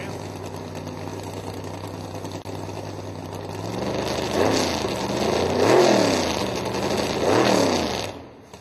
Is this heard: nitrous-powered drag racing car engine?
yes